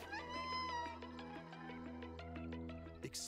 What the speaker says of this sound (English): Experience a decaying cyber city through the eyes of a cat separated from their family and friends.